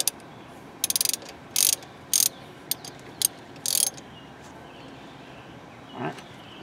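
A 14 mm socket wrench ratcheting on Saturn S-Series brake bolts, several short bursts of rapid clicking close up, separated by brief pauses.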